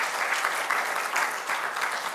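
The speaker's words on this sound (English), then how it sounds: "So if I could have a round of applause" Steady applause from the audience at an architecture scholarship lecture, dense and even clapping that fills the hall for the whole stretch with no voices on top.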